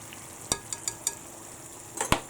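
Caramel sauce simmering in a pan beside cinnamon bananas for pancakes, a steady hiss with a few light scrapes and clinks of a utensil stirring, close up.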